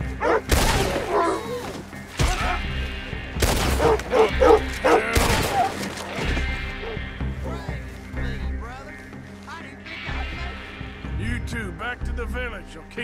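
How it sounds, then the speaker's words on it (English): Dogs bark and yip in Red Dead Redemption 2 during a tense fight, with repeated barks rising over gunfire, shouting voices and game music throughout. "I'll keep these dogs at bay."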